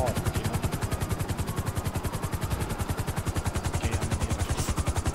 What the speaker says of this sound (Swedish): Vad har du, en helikopter?